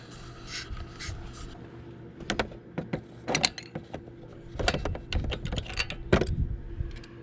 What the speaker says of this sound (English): I'm gonna have to have an extension and a ratchet to get it out.